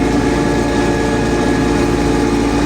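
A tractor engine runs steadily at close range, a loud, constant low rumble with no pauses and no voices over it.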